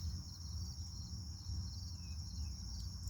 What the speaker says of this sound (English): Let the crickets lull you to sleep.